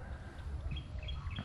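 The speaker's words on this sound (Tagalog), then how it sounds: "Narinig nyo naman yung huni ng ibon." Faint, brief bird chirps sound over a low rumbling outdoor background on a farm lot in San Antonio, Nueva Ecija.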